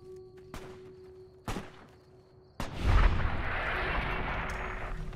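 Gunfire from the video game Fallout: New Vegas. A few sharp, separate shots ring out, followed by a heavier blast that trails into a sustained rumble. The sound is moderately quiet with a faint steady hum underneath.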